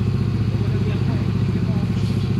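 A motorcycle engine with a worn valve guide runs loud and close, a steady rough idle with an even pulsing clatter throughout.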